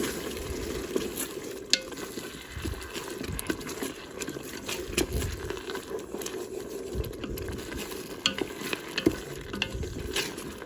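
Chicken in oyster sauce being stirred as it fries in a Ninja Foodi multicooker, a steady close sizzle with scraping and clacking utensil strokes at irregular intervals throughout, no talking.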